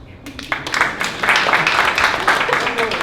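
A live comedy crowd breaks into clapping that builds fast and holds as a dense, steady patter of many hands. Voices mix in with the clapping.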